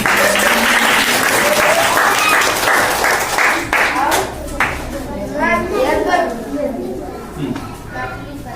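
Schoolchildren at an Indian government school burst into loud, crowded applause for about four seconds, then the clapping dies away into children's voices and an adult talking.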